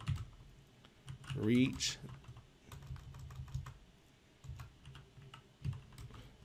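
Someone types on a computer keyboard, quick light key clicks coming in short bursts, with a voice speaking over the typing.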